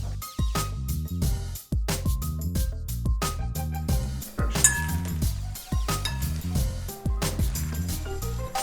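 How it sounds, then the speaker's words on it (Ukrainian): Utensils clink and knock against a bowl in repeated rhythmic strokes as a spinach salad is tossed and mixed, close and fairly loud. "Це потрібно гарно перемішати."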